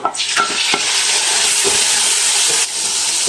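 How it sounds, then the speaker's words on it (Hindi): Onions and tomatoes fry in a pan while being stirred, a loud steady sizzle and hiss running throughout with scraping stir strokes breaking through at intervals. "इसकी भी अच्छी तरह से हम भुनाई करेंगे ताकि प्याज और टमाटर अच्छी तरह से आपस में मिक्स हो जाए"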